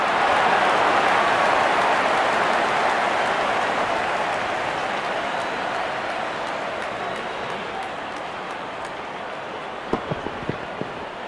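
Cricket crowd at an India–Pakistan match cheering and applauding a six: a dense, loud roar of clapping and voices that slowly eases over about ten seconds, ending with a few sharp claps.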